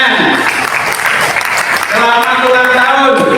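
Applause at a formal Betawi customary council gathering honouring an official, broad clapping filling the room with voices mixed in, turning into a steadier tonal sound with music-like harmonics toward the end.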